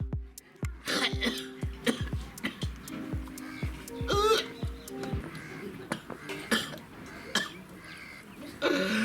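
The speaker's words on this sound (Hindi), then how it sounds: "खांसी से छाती फाटि रहल है" Repeated coughing in a noisy outdoor setting, with sharp knocking sounds and clucking fowl in the background.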